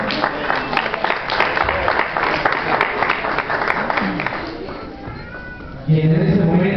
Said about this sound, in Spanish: Un aplauso fuerte para nuestra reina.